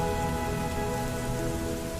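Steady rain patters on a surface with a constant, dense hiss, loud and unbroken from start to finish, without any voice over it.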